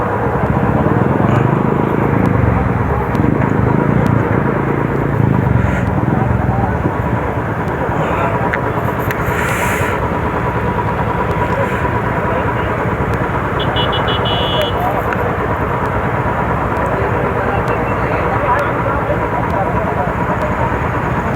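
Several sports motorcycles, among them a Hayabusa, ZX-10R, Z900, Pulsar and Duke, pass close by in a group, their engines loud and sustained at first and then easing into a steady roar as talk carries on.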